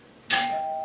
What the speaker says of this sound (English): Doorbell, I'll bet you that's my new monitor coming.